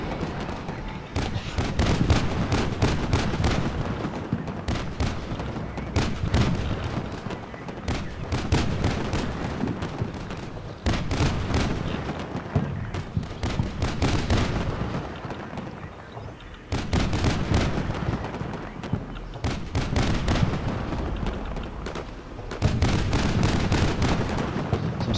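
Artillery fire mission explosions from the Combat Mission Shock Force video game, landing on a building: repeated loud booming blasts in bursts, each followed by rumbling decay, spread across the whole stretch with no voices.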